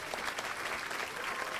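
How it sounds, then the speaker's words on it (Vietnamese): Audience applause on a Vietnamese family game show, a dense, steady wash of many hands clapping at moderate loudness throughout, with no talk over it. "Bằng một tràng pháo tay thưa quý vị"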